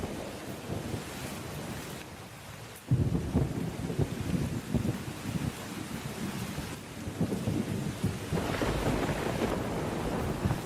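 A thunderstorm in a cartoon brings steady heavy rain and gusting wind, with a sudden loud thunder crack partway through and more rumbling later.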